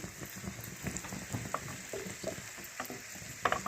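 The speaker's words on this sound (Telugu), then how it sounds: "ఆవాలు, జీలకర్ర, ఎండుమిరపకాయలు బాగా వేగిపోవాలి." Mustard seeds, cumin and dried red chilies fry in oil as a tempering for spinach dal, a faint, soft crackle with scattered small pops throughout, no talking.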